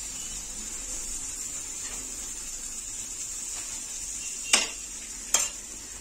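Karupatti palm-jaggery paniyaram frying in a pan, giving a steady soft sizzle throughout, broken by two sharp clinks of a utensil near the end.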